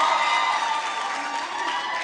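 Audience at an inauguration ceremony for national youth organisation leaders applauds and cheers, a dense, steady wash of clapping and crowd noise filling a large hall, holding at an even level throughout.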